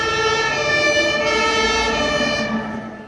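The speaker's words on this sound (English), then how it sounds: "Miss Rabbit puts on the siren and drives them to Peppa's house." A cartoon fire engine siren wails continuously, loud and close, with a steady two-tone pitch over a rumbling motor, fading slightly at the end.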